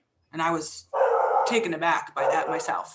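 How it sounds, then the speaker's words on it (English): A dog barks briefly in the background during a conference keynote, partly masked by someone speaking close to the microphone. "Apologies for the dog."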